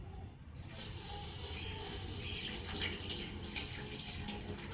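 Water splashes and trickles steadily while being poured as an offering during a tarpana rite for ancestors at a riverbank in Kashi, a soft continuous wash with no talk.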